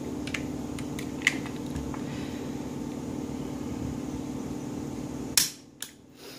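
A CZ 97 B pistol's trigger is pulled in single action, giving faint small clicks over a steady background hum, then a sharper click as the noise drops away, followed by another click.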